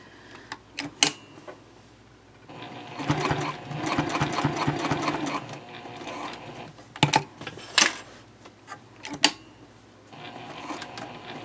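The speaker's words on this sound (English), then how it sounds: "you can sew a little bit over your previous stitching where you began" A sewing machine stitches a bowler bag with a zipper. One steady run of stitching lasts a few seconds, with scattered clicks and handling noises before and after. No one speaks.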